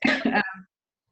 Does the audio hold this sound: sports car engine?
no